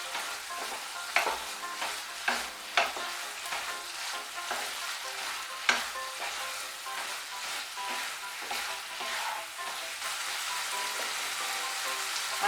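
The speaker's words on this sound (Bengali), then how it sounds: "আঁচটা বাড়িয়ে দিয়ে একটু নাড়াচাড়া করে নিয়ে এর মধ্যে আমি কাঁচা সর্ষের তেল দিয়ে দেব" Drumsticks and boiled potato stirred in a pan over high heat, the spoon scraping in quick, repeated strokes over a steady, close sizzle of frying, with no voices.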